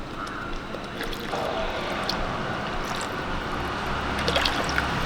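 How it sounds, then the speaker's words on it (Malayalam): Water from rinsing a grinder jar is poured into a Kerala-style mackerel curry, a soft continuous trickle and splash with a few drips, close up and quiet, with a voice talking over it. "നമുക്ക് ജാർ കഴിയ വെള്ളം കൂടെ ഇതിലേക്ക് ഒഴിച്ചു കൊടുക്കാം"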